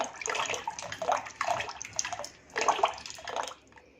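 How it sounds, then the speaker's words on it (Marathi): A wooden churner (ravi) whisks lassi with water in a pot, making rhythmic sloshing, splashing strokes in repeated bursts, close and fairly loud. "आणि आता आपण हे रवीनं 3 ते 4 मिनिटं असं घुसळूया."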